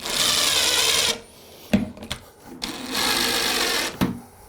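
A power drill driving screws into a wooden Murphy bed frame, two long whirring runs broken by sharp clacks and knocks, close and loud.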